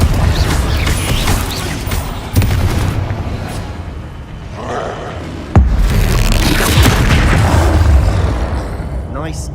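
A Confringo blast spell fires in Hogwarts Legacy amid a troll fight, with loud booming impacts and a sharp crack partway through over constant rumbling combat noise.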